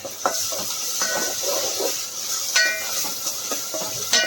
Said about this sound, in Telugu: ఇప్పుడు కొంచెం అల్లం వెల్లిగడ్డ వేసుకుందాం. మంచిగా కలుపుకుందాం.